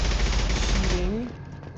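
Rapid automatic gunfire from a Mass Effect 2 firefight, a dense continuous burst that cuts off abruptly near the end, with a faint rising tone sliding through it.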